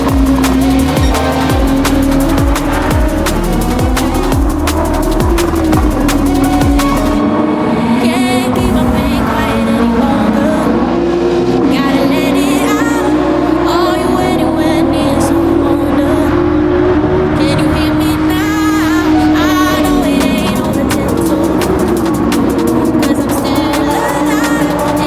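Nissan GT-R racing car in Gran Turismo 7, driven with a MOZA R5 wheel on PS5, its engine droning loudly and continuously with rising and falling revs throughout, no speech.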